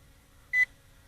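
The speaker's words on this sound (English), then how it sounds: "One beep." A single short electronic beep from an Ameta S20 Lite beginner drone controller, clear and close in an otherwise quiet room.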